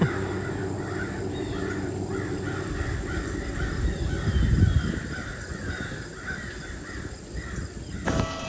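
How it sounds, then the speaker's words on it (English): Several crows caw repeatedly in the distance, overlapping calls rising and falling over steady outdoor background noise with a rumble of movement from a bicycle on a trail. "Sounds like there's a bird party right back in there."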